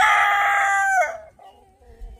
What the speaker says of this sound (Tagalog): Andito na naman ang ating mga manok.